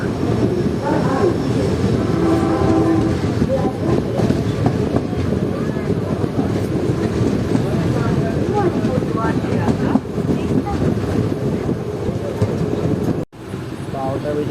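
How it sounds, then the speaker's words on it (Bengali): A passenger train, the Azimganj–Howrah service, pulls out of platform 3 at Katwa Junction at night, with a continuous loud rumble and clatter of wheels on rails, and voices of a crowded carriage underneath. "কাটোয়া জংশনে 3 নম্বর প্ল্যাটফর্মে ছেড়ে দিল"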